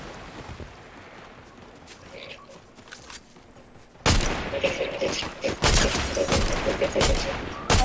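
Rapid gunfire from the Fortnite video game, a dense burst of loud, close shots after a quieter stretch of ambient water and wind, the firing continuing in clustered volleys.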